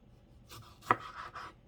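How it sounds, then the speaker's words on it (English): Knife slicing green vegetables for pico de gallo on a cutting board: a few soft, quick cuts with one sharper chop in the middle, close and quiet, with no talking. "So we're just going to flip these over and just slice them like we did the tomatoes."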